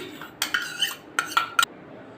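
Fresh milk cream is stirred into caramel in a pan on a low flame, with a spoon giving a handful of sharp, close metallic clinks and taps against the pan, spaced irregularly, with no talking.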